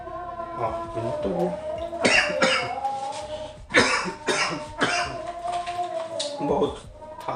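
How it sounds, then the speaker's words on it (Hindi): A man coughs repeatedly in a dense, rough fit with short gaps between bursts, close and loud, in an indoor setting. "बहुत खांसी हो रहा है, बहुत खांसी।"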